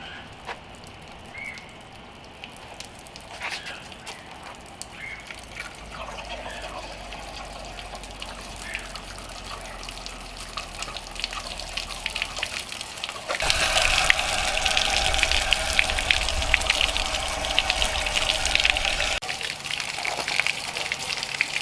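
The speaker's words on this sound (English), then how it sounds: "I've been running water through this for a better part of an hour." Water runs steadily through Datsun truck engine parts, washing out gravel and sand in a continuous gushing rush that grows louder and harsher about halfway through, then eases slightly near the end.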